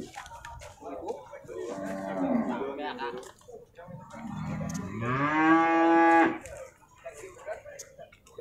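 Beef cattle at the Purwakarta livestock market in Indonesia give two long, loud moos close by, the second deeper and more drawn out, with faint background chatter between them.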